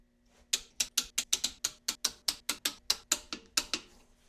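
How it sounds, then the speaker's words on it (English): Torque wrench ratcheting on the crankshaft bolts of a BMW N55 engine during a rebuild with a forged crankshaft, a close, crisp series of about sixteen rapid clicks in a steady rhythm, alone without speech. "I'm only going to torque these middle bolts."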